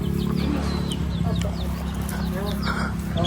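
Chickens cluck and chirp close by, scattered calls over a steady background hum, with a person talking now and then.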